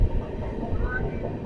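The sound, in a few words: train running on rails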